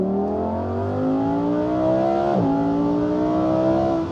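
Lamborghini Huracán Sterrato engine pulling hard through quick dual-clutch gear shifts, its rising harmonic drone dipping sharply at one change around midway before climbing again, loud and close with no talk.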